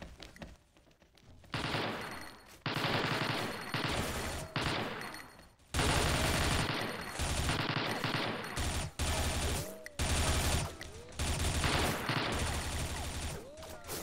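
Dense, heavy gunfire from the video game XSHOT rattles in long sustained bursts, broken by brief pauses, loud and close, with faint talk now and then beneath the shooting.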